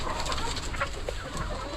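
Chickens clucking outdoors in rainy weather: short, soft clucks and calls from a few birds over a steady hiss of background noise, fairly distant and low in level, with no talking.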